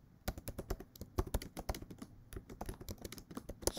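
Someone types on a computer keyboard, with quick irregular bursts of close, crisp key clicks and no talking.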